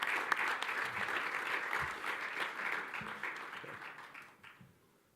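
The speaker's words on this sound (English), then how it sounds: "So let's give them a round of applause." An academic economics conference audience at LACEA LAMES 2017 claps for the local organizing committee and staff, a fairly close, lively round of applause that gradually thins and fades out toward the end.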